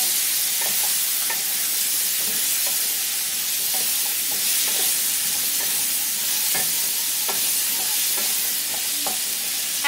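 Vegetarian drumstick curry in mustard sauce being stirred in a pan: a steady background sizzle broken by repeated light scrapes and taps of a spoon against the pan at an uneven rhythm.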